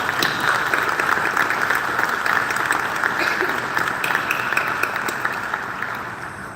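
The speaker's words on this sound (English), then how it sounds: "Let's give them a big round of applause." An audience at an emergency-number association's board installation ceremony breaks into loud, sustained applause: dense, even clapping that holds steady, then gradually tapers off toward the end.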